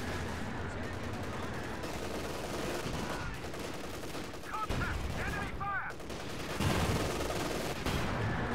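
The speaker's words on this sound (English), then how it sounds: "Bazooka shots bouncing again off the glacis plate" Bazooka rounds striking the thick frontal glacis armour of a Panther tank in a World War II strategy video game, heard as repeated sharp impacts and gunfire crackle amid dense, continuous battle noise.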